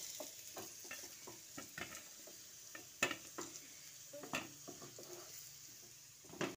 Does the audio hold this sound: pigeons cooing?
no